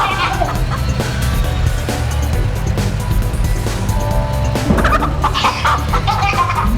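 Chickens in the video game That Dragon, Cancer: loud clucking fowl calls over a dense, busy game soundtrack with a low droning engine-like bed, continuing throughout.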